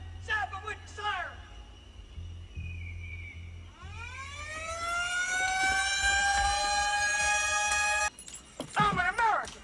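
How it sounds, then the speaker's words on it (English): A siren wails in a long rising tone that holds steady for several seconds, with shouting voices before and after it. "Stop them with your siren, man."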